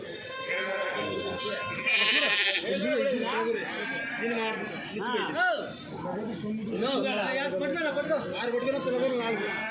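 Sheep and lambs bleat at the weekly livestock market in Kadiri, their cries mixed with steady crowd chatter as people haggle nearby throughout.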